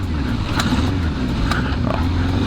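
A Kawasaki Z650 motorcycle rolls at about 10 km/h in first gear, its engine a steady, close, low droning rumble with no clear revving.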